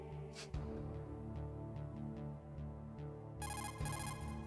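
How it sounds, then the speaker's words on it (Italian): The Codec call in the Metal Gear Solid video game rings with a high, rapid electronic trill near the end, over steady game music and ambience. "Mi sembrava avessero telefonato."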